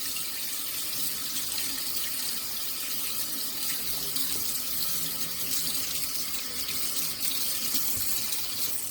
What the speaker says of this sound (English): rinse my hands off because I got a little bit of chocolate on my hands